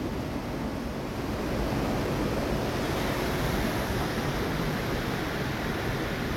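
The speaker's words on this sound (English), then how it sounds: "Fast flowing stream there, or river." A fast-flowing stream or river near Llanfair rushes steadily, a dense, continuous wash of water noise that stays even and unbroken from start to finish with no voices.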